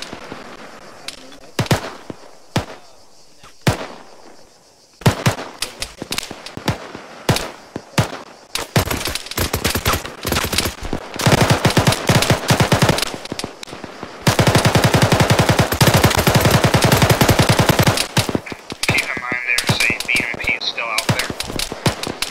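Gunfire in Arma during a US Army Rangers milsim operation, opening with scattered single shots before swelling into long, loud automatic bursts and heavy volleys, close and intense, with short lulls between strings of fire.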